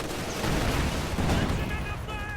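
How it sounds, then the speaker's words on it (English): A bundle grenade explodes in a World War II strategy video game, a loud booming burst with rumbling debris that fills most of the moment, followed by thin high whistling tones as it dies away. "They managed to get off the bundle grenade"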